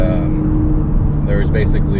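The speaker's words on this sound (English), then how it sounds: "I have the Borla Catback exhaust" Ford Focus ST fitted with a Borla catback exhaust, driving along with a steady, deep engine drone heard from inside the cabin, continuous and fairly loud throughout.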